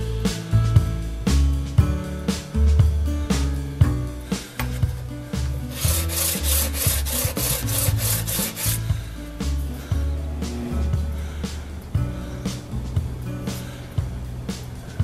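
Tungsten carbide lathe tool being sharpened by hand, its steel shank rubbed and filed against an abrasive in steady back-and-forth strokes, loud and close, with a brighter gritty stretch midway and no talking.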